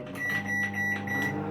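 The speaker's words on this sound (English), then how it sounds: "I think you just stick it in the microwave." A microwave oven hums steadily while heating a large steamed pork bun, its close, continuous drone overlaid with a faint high electronic tone.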